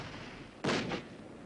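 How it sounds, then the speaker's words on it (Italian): A single loud artillery blast from a new British 88 rapid-fire cannon on pneumatic tyres, shown in archival wartime battlefield footage near Tobruk, with a sharp crack and a brief echoing tail over faint background hiss. "Si riconosce bene il nuovissimo cannone inglese da 88, a rapida frequenza di tiro, montato su pneumatici."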